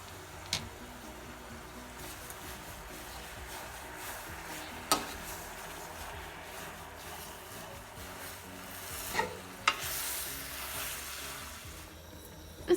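Flour being stirred in a pot for Turkish nettle soup, a soft, quiet scraping and rubbing with a few sharp clicks of the spoon against the pot, no voices.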